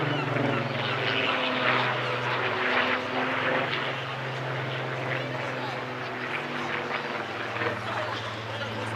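A Spitfire Mark 19 propeller fighter in PRU blue flies past at the Clacton Airshow, its engine a loud, sustained droning roar across the whole stretch, with a commentator talking over it.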